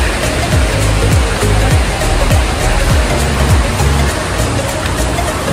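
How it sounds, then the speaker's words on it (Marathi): A river flows through a forest below a path, giving a steady, loud, broadband rush of water throughout, with repeated low thumps over the constant roar. "इकडे खाली नदी आहे"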